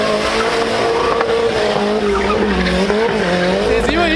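A turbocharged VW Gol with an AP engine drives hard, its loud, close engine roaring continuously while the tires squeal, the sound staying dense and intense throughout.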